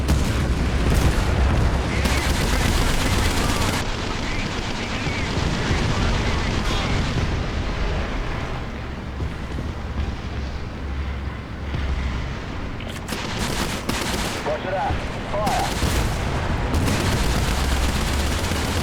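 Tank video game battle with continuous heavy rumble and booming artillery and gunfire, loud and dense throughout, with bursts of impacts toward the end.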